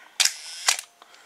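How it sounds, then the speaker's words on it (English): Cloth focal-plane shutter on an Olympus OM-1 film camera with a Zuiko 50mm f/1.4 lens firing up close: two sharp mechanical clacks about half a second apart, then a faint softer tick, in a quiet room. "All OM has a cloth shutter."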